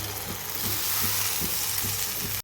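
Tomatoes go into frying masala for a drumstick curry, giving a dense, close sizzle with a soft stirring knock repeating about every third of a second, and no speech.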